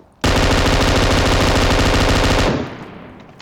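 An M249 machine gun in a video game fires one sustained, loud, rapid automatic burst of about two seconds, cutting off sharply and leaving a fading echo.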